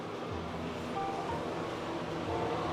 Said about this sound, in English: There's a fan that comes on when the light comes on, so you'll hear that when we walk in.